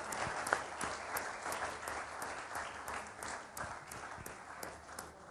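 Studio audience on a Samaa TV iftar show applauds, a soft, distant wash of continuous clapping at low level throughout, with no speech over it.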